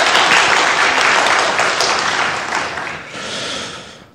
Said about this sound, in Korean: 우리 박수로 한번 격려해 줄까요?